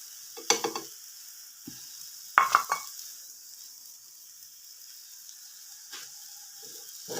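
Garlic sizzles softly in a frying pan over low heat while a spoon stirs and scrapes it in a few sharp, intermittent strokes, set against a faint, steady hiss.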